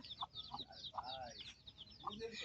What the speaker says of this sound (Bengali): মুরগিগুলো অনেক সুন্দর দেখতে এই যে একটা মুরগি